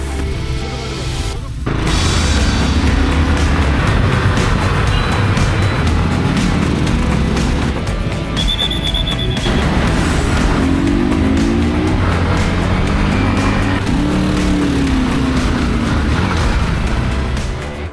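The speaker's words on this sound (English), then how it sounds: "I'm on my WR155R and he's riding his Crossfire HJ250." A Yamaha WR155R and a Crossfire HJ250 dirt bike ride trails near Kathmandu, with a loud, continuous engine roar and rising and falling revs under steady wind rush.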